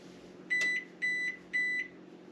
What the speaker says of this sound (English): There's my timer for my preheat.